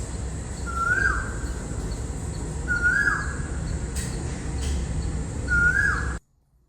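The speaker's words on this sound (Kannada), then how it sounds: "ಇಲ್ಲಾಂದ್ರೆ ಏನೋ ಒಂದು ಬೇರೆ ಪಕ್ಷಿ ಸೌಂಡ್ ಕೇಳಿಸ್ತಾ ಇರತ್ತೆ" Birds call outside a house: three evenly spaced, clear calls ring out at regular intervals over a steady outdoor background hum, fairly close and distinct, before the sound cuts off abruptly.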